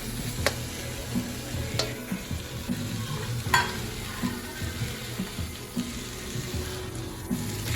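Beef and vegetables sizzle in a pan for cheesesteak egg rolls, a soft steady frying hiss under occasional utensil scrapes and stirring clinks, moderately quiet and close, with no talk.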